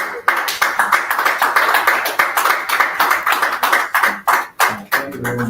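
A summit audience claps in short, dense bursts, with several sharp, loud rounds of applause that rise and fall near the listener.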